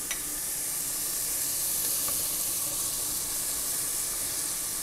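Ingredients for Dominican rice and corn brown in a pan with a steady, close, even sizzle and hiss throughout, with a few faint crackles and no voices.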